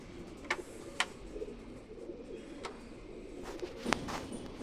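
A pigeon lying down coos softly in a low, steady murmur, faint and close, with a few sharp clicks and taps scattered over it.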